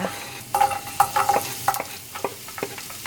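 Garlic and onion fry in olive oil, a soft steady sizzle broken by a series of clinking, scraping utensil strokes against the pan, close by and with no one speaking.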